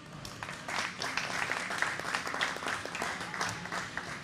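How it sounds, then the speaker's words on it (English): A crowd at an evening live show applauds steadily, many hands clapping in a dense, sustained wash that swells after a brief start and carries on throughout. "So big round of applause."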